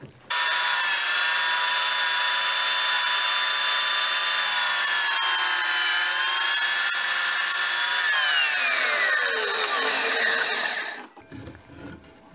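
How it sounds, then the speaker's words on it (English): A power saw blade cuts a bevel in wood while building switchback stairs, a loud, steady high whine held for about ten seconds, dropping in pitch as the cut finishes, then winding down. "when the blade comes straight down, it's actually cutting a bevel"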